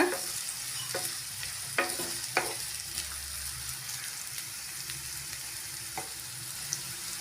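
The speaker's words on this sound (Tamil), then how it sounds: "வெங்காயம் நல்லா வதங்கி வரட்டுங்க. நல்லா வதக்கி விட்டுக்கோங்க." Chopped onions sauté in a pan for a chicken gravy, with a continuous soft sizzle and a few scraping stir strokes spread through. The sound is close but fairly quiet, and no one talks.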